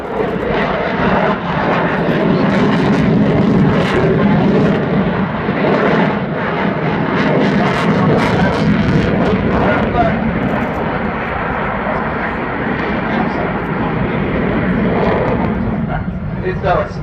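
A fixed-wing aircraft flying an aerobatic square loop at the Farnborough International Air Show 2014, its engine roaring loud and steady throughout, with a commentator speaking over it.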